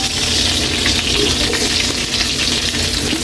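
Sliced onions frying in hot oil in a pan while pork steak is cooked, giving a steady, dense sizzle and crackle close up throughout, with faint stirring scrapes.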